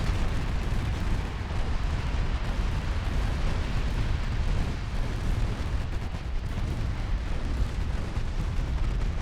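Heavy naval artillery rumbles and booms continuously in Ultimate Admiral Dreadnoughts, warship guns firing in dense overlapping blasts that form a loud, sustained barrage with no talking.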